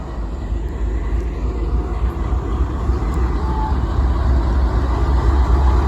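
A GE Dash 8 freight locomotive, number 511, running with a local train: a loud, continuous low rumble that grows slightly stronger over several seconds.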